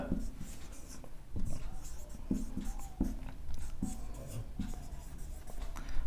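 A fraction is written on a board in a maths lesson, with repeated scratchy marker or chalk strokes and taps at close range while a teacher talks over them.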